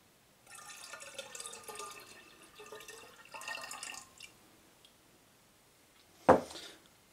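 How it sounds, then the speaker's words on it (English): Water pours into a glass demijohn while making rose wine from a kit, a gurgling trickle in uneven spurts over a few seconds, then a sharp knock as the vessel or container is set down, close and fairly quiet. "Now you want to add some more water to that because you want to get every single bit of the stabilizer."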